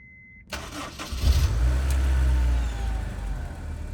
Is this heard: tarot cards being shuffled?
no